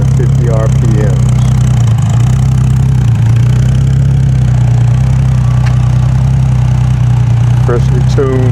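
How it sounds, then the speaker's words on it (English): A Triumph TR6 idling at about 950 RPM through its freshly tuned exhaust, with a loud, steady low rumble close by and a few faint voices in the background. "Runs exhaust idling at 950 RPMs."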